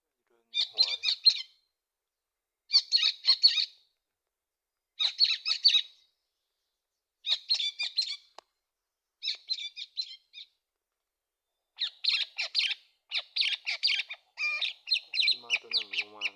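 Small birds calling in bursts of bright, high chirps, about ten short phrases separated by silences, clear and fairly close, quickening toward the end.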